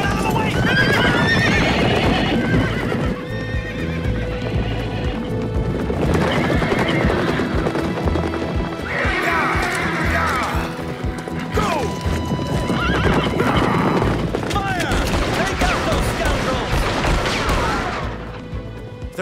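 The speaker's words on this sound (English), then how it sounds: "Oh, the stables! They freed the horses!" Loud, continuous hoofbeats of horses galloping close by, with repeated neighs and whinnies breaking through a chaotic background.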